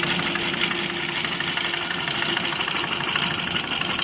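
A sewing machine running steadily, a continuous close mechanical whirr with fast rhythmic clatter and an even hum, loud and unbroken throughout, no talk.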